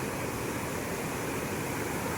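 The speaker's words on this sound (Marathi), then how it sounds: "आता आपण आलो रानपाटच्या नदीत" The Ranpat river in the Konkan flows near a waterfall, a dense, steady rush of water filling the short stretch with no breaks or voices.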